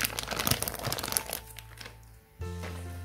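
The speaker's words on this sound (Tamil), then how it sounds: "இந்த கவர் ரிமூவ் பண்ணிடலாம்" A thin plastic cover sheet is peeled away from rolled butter biscuit dough, giving close, busy crinkling and rustling for a second and a half, then a pause and a quieter rustle.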